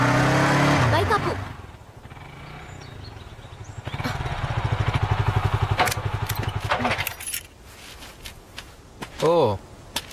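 A motorcycle engine putters in a rapid, pulsing rumble for several seconds in a Telugu movie scene, fairly close, with voices speaking around it and other brief noises before and after.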